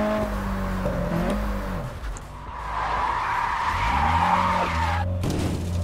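Car tires squealing and skidding through drifts in the Drift Master video game, a loud sustained screech with engine revving that rises and falls, broken by a brief gap before the skid resumes.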